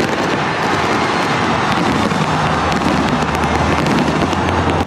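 New Year's Eve 2023 fireworks launched from the ground at the Arc de Triomphe in Paris, a loud, dense, continuous crackle and rumble of bursts filling the whole stretch.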